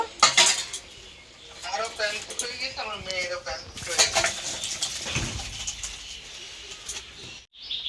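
Cooked shukto finished with ghee is tipped from the cooking pot into a serving dish, metal utensils clinking and scraping in short bursts, while a voice talks intermittently and a bird coos in the background.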